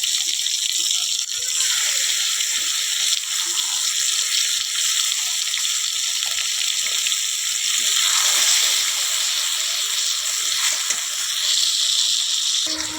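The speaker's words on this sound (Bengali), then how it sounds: "একটু ভাজা হয়ে এলে আদা রসুনের বাটাটা দিব" Ginger-garlic paste frying in fish oil in a pan with cumin seeds and tomato for a katla fish curry, giving a steady, fairly loud hiss and sizzle that runs without a break and swells now and then.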